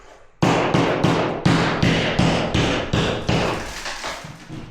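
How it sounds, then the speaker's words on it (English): Light hammer smashing holes in a plaster ceiling: about eight sharp, loud, close impacts in an uneven rhythm, each with a crumbling decay, and no talking. "get my light hammer and just smash a few holes in"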